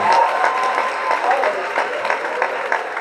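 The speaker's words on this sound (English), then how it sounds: "So huge round of applause, guys." Steady applause from an audience at a Swatch event fills the whole stretch, dense clapping with a voice faintly over it.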